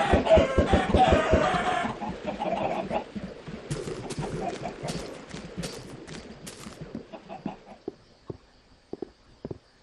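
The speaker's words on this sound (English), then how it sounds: "Giant chicken that lays real eggs." Clucks and crowing from a giant chicken in the Minecraft video game, a burst of flapping noise first, then short pecks and calls spaced out over a quiet scene.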